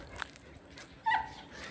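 Dogs on a farm whimper and yip faintly, with a few short, quiet, close vocal sounds over a low background; a brief voice may be heard.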